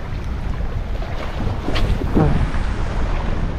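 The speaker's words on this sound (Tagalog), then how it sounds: "Kalaban ko na ang hangin ngayon." Strong wind blows across open sea off an isolated Palawan fishing spot, buffeting the microphone with a loud, gusty rush that swells around the middle, while water and boat noise sit underneath.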